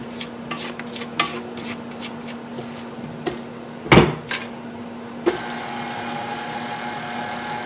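Cake batter mixed in a bowl and scraped down for a pineapple upside-down cake, a series of short scraping and clattering strokes, then a loud knock and a steady whirring mixer hum.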